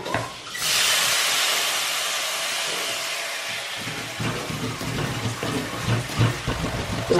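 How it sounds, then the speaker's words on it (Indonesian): Salted fish frying in a pan in a home kitchen, with brown palm sugar added, a loud steady sizzling hiss that swells in at the start and holds throughout, with faint clatter and low background sounds in the later part. "Ini lagi goreng ikan asin ibu-ibu tuh."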